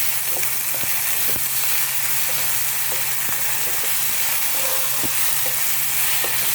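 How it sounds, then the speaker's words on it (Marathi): Chopped tomatoes sautéing in a pan for baingan bharta (vangi bharit), a steady broadband sizzle with occasional sharp stirring clicks and a low steady hum underneath, continuous throughout. "एक वाटी टोमॅटो, हे सगळं घालून आपण याला परतवून घेऊया"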